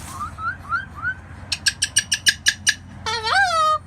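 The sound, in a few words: Moluccan cockatoo calling outdoors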